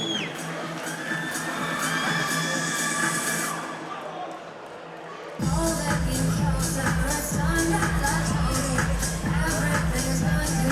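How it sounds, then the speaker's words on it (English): Crowd at a Kingdom 10 Boxpark boxing event cheers and applauds a boxer introduced from the ring, a dense, loud wash of noise that swells midway and carries on steadily. "Ladies and gentlemen, please, a big round of applause for Israel Campano"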